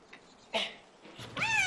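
A domestic cat gives a short, close meow at the end, after a few faint soft sounds and a brief rustle.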